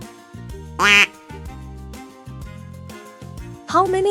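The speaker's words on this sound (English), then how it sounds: "How many ducks are in the pond?" Two short, loud duck quacks, the first early and the second near the end, sound over light background music in a children's farm-animal counting song.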